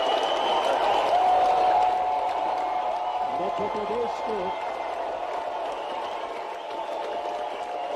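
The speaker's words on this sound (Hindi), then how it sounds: "जोरदार तालियां बजाएं।" Applause fills a crowded hall at the launch of the Khelo Badho sports campaign in Gautam Nagar, Bhopal. The steady clapping continues throughout while someone speaks over it on a loudspeaker.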